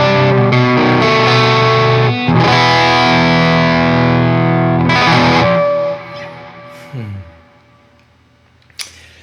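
Chandler GAV 19T guitar amp gives out a loud, throaty, hoarse distorted guitar tone as sustained chords and riffs with brief gaps, then rings down and trails off near the end without any talking over it.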